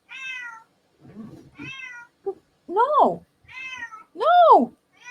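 An upset cat meows repeatedly, close and clear, with a string of rising and falling wails, some short and some drawn out; a person briefly says one word between them.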